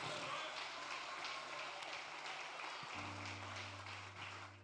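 A church congregation applauds in a soft, distant wash of clapping, with a low sustained organ or keyboard tone entering partway through.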